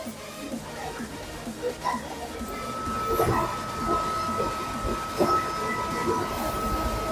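Ambient rail noise at Ekta Nagar railway station in the early morning, a steady rumble of train wagons with a sustained whine and scattered clanks, with faint voices in the background.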